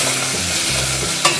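Chopped apples being mixed with cinnamon and sugar in a bowl, a steady close rustling and stirring with one sharper clink near the end; no voices.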